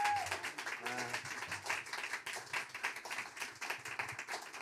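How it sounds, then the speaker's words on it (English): Applause at a jazz salon after a music performance, dense clapping from an audience spread over a few seconds with steady texture, moderately faint, with some voices mixed in. "Maybe one more round of applause for this incredible"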